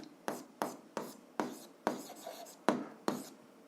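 Pen or pencil writing out an algebra equation on paper, a run of seven short scratchy strokes at an even pace, each starting with a crisp attack and trailing off, close and fairly quiet with no talking.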